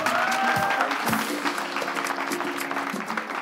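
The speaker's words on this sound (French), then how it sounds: "que j'aimerais que vous applaudissiez quand même, évidemment." A crowd at a televised competition show claps for the final group, a moderate wash of applause with some tonal music or voice traces mixed in, gradually thinning.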